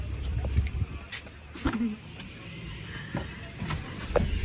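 A family car pulling away with people inside, its engine and road rumble low and steady, with a few brief knocks and clicks along the way and faint movement in the cabin.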